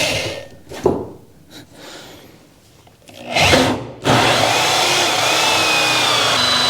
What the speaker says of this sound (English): So I'm boring a pretty big hole right here due to that fact.